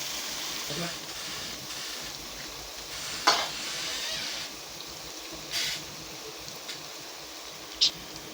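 Mushroom chicken masala with salt and a pinch of turmeric frying in a pan, a soft, steady hiss broken by a few brief clinks and scrapes.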